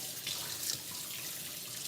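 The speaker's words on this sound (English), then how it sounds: "So I'm just cleaning out my juicer" Tap water runs steadily into a sink while a juicer is rinsed out, a continuous close hiss of flowing water with no talking.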